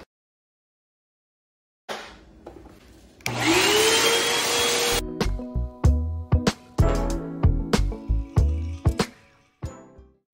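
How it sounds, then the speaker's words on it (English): A vacuum cleaner starts up with a climbing whine and roars for a few seconds on a kitchen floor, then stops, followed by a series of sharp clattering knocks. "First, we have to vacuum."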